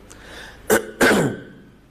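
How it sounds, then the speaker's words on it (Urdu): A man with a sore throat coughs and clears his throat, two sharp rasping bursts in quick succession, close and loud in an otherwise quiet room. "ذرا گلا کچھ سیٹنگ آؤٹ ہوئی ہے اس لیے تھوڑا سا بار بار کھانس رہا ہوں"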